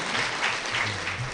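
Loud audience clapping at a Kannada Ugadi comedy show in Dharwad, a short dense burst of applause from a crowd.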